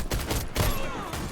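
Bursts of airsoft gunfire during a juggernaut game, including shotgun shots, crack in quick succession, loud and close, over a busy background of players moving about.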